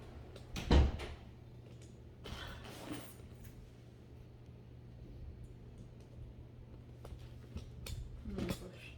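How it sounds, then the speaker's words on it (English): An interior door is pushed shut in a home, giving one fairly loud thud near the start, followed by quiet room tone with faint distant rustles and a small knock near the end. "Joshua, please close the door."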